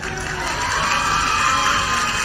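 A crowd cheer sound effect plays loud and steady, a dense wash of cheering and shouting voices that holds without a break from start to finish.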